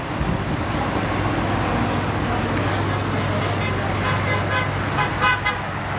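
Passing traffic on the N118 sounds its horns in support of protesting farmers, with a continuous roadway roar and a sustained honk followed by several shorter toots near the end, loud and close.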